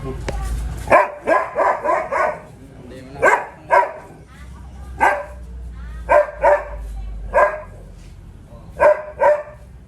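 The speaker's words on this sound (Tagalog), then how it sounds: "ang laki pa ng aso, no? German dog. German Shepherd." A large German Shepherd barking nearby, a series of loud, separate deep woofs, mostly singly and some in quick pairs, spread irregularly across the span with brief pauses between.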